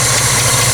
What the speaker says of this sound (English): kind of a ticking noise that makes me think it's an exhaust leak on the manifold